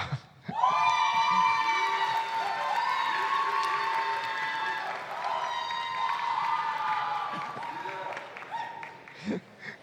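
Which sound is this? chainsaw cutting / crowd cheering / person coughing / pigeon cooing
crowd cheering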